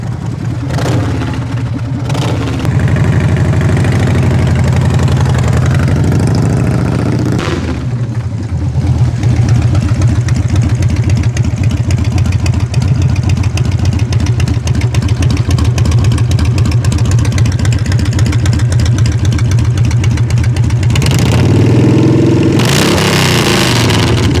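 A 1996 Harley-Davidson Dyna Low Rider with a 1340cc Evolution V-twin runs close and loud with a steady, deep rumbling idle, after a few short throttle blips at the start and before a brief rise near the end.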